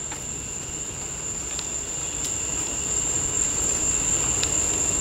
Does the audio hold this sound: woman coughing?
no